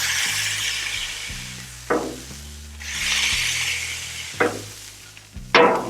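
Onion burger pressed flat on a hot Blackstone griddle, a steady close sizzle and frying hiss with a metal press clinking and scraping against the surface several times.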